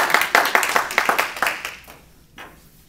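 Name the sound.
everybody clapping their hands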